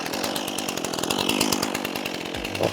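A big old chainsaw with no decompression valve or primer bulb, started after a few cord pulls, runs loud and close with a steady, harsh idle and a slight rise near the end.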